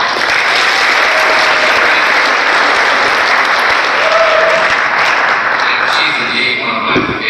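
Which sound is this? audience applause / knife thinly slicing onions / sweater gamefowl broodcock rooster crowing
audience applause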